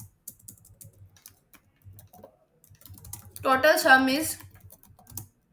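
Python code is typed on a computer keyboard: soft, irregular key clicks scattered throughout, with someone speaking briefly in the middle.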